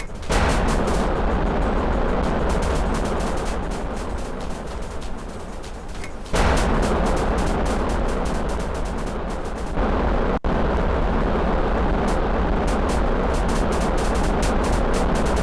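Missile launches in Kerbal Space Program: a loud, continuous roaring blast of rocket fire filling the whole stretch, briefly dropping off mid-way and then surging back, with no talk over it.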